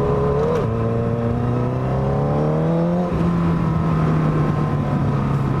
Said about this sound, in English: I could get used to having a 1000cc bike